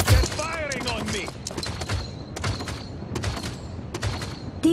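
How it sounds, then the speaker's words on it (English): Gunfire sounds in the shooter game Paladins on a training shooting range. Repeated sharp shots come in quick clusters, moderately loud, mixed with game effects and talk. "They're firing on me."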